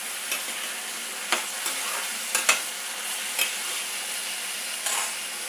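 Ivy gourd sautés in hot oil with asafoetida, a steady close sizzle broken by several sharp scrapes and taps of a spoon stirring the pan, with no talk.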